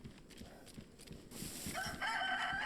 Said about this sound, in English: There's chickens here, bro.